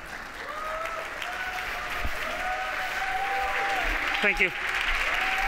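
Audience at the 4YFN Awards in Barcelona applauds an award winner, co-founder of BoxMotion, with steady, sustained clapping under a presenter's voice, and a brief spoken thanks rises over the applause near the end.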